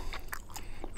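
Someone bites into crunchy shrimp from camp jambalaya cooked outdoors, a few quick close crunching bites with no talk.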